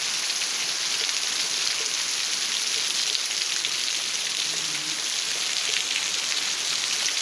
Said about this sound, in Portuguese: Registrando aqui a chuva.